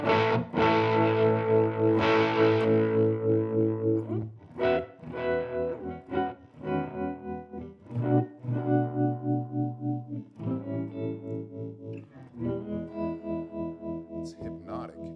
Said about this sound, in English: This one is adjusting the bias circuit, so it's actually pumping the tubes, which makes it really warm